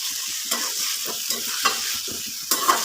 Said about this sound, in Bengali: এইভাবে বারে বারে ফুলগুলো নেড়ে দিতে হবে।